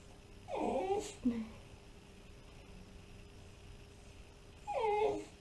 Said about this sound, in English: my dog is whining